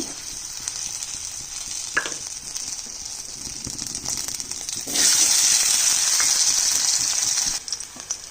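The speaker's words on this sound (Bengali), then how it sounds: "একটা আলু নিয়েছি সেদ্ধ করা, তা আলুটা আমি ভেজে নিচ্ছি।" A boiled potato fries in a hot pan, giving a steady close sizzle with occasional stirring scrapes, and the hiss grows louder and brighter partway through before easing off.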